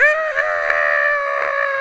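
A person's voice imitates a character's scream from the Riddle School game with a sustained, high, strained shriek lasting nearly two seconds at close range.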